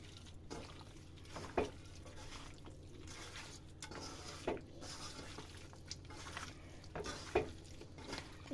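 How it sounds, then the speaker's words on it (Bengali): Beef is mixed by hand with spices and mustard oil, giving soft, wet squelching and stirring sounds with a few louder slaps at intervals. The sounds are quiet and close, with no talking. "এবার এটা সব মশলা দিয়ে মাখিয়ে নেব, ভালোভাবে ম্যারিনেট করবো আর কি"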